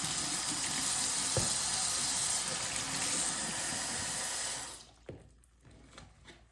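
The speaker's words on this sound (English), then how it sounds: "And I'm gonna cover it with water." Water from a tap runs steadily over fabric packed into a container for cross-stitch dyeing, a continuous hiss that cuts off near the end, leaving quiet handling sounds.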